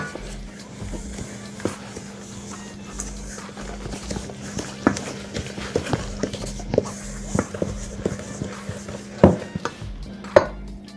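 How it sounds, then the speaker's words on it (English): Cornmeal pudding batter is stirred in a pot, with a spoon scraping and knocking against the side in an irregular rhythm over a low steady hum, close by and with no speech. "You just want to mix this out real good."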